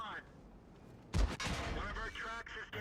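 A single heavy tank gun blast booms out during a World of Tanks clan wars battle, sharp and close, followed by rumbling battle noise, while a voice speaks over the scene.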